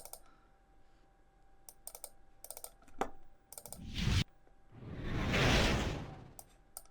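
Edited sound design passage: light keyboard-like clicks and ticks, a sharp hit, then a rising whoosh and a long, loud swoosh effect that swells and fades, with no talking.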